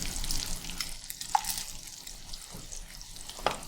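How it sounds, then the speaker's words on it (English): Bacon frying in a pan at low to medium heat, a soft steady sizzle with occasional small pops and crackles, fairly faint and heard alone without talk. "Toward the end of cooking the bacon, it's going to start cooking quicker and quicker and quicker."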